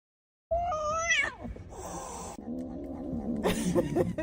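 A cat lets out a loud, drawn-out meow with wavering pitch, then further rough, strained cries follow over background noise.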